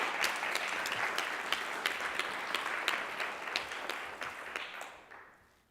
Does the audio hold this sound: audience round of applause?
yes